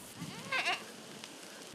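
On a Volyn goat farm with about 130 goats, a single goat gives a short, clear bleat amid quiet surroundings, followed by a faint brief sound at the end.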